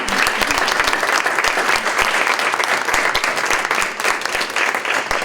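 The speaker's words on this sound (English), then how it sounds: "please let's give this panel another round of applause" A live audience applauds a mental health partnership panel, dense steady clapping filling the whole stretch at an even, loud level with no break.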